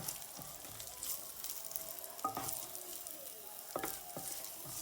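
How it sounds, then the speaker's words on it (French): Carrots and celery frying in a little olive oil give a steady, quiet sizzle and crackle, with a few soft stirring knocks from a utensil against the pan. "j'ai mis des carottes et du céleri que vous allez faire revenir dans un petit peu d'huile d'olive"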